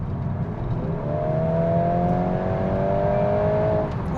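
A Volkswagen Golf R Estate in race mode accelerates steadily, its engine note climbing as a continuous rising drone with road roar underneath, heard from inside the cabin throughout.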